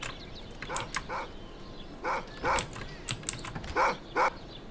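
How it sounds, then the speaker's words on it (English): A dog in Hitman: Blood Money barks in short pairs of sharp, moderately close woofs that repeat at uneven intervals over low background noise. "Shut the hell up, you lousy mutt."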